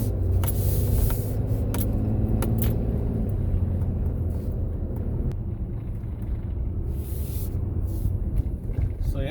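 Cabin of a RAM 3500 Megacab pickup fitted with a steering gearbox stabilizer, cruising on the road: a loud, steady low engine and road rumble throughout, with faint rattles and a few brief clicks.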